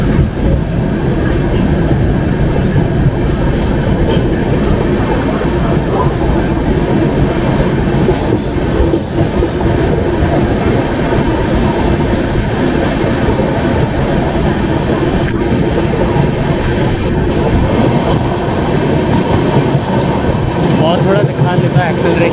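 A train, with a Jabalpur Garib Rath nearby, runs steadily on the tracks, giving a loud, continuous rumble with rattling wheels and faint squeals that persists throughout.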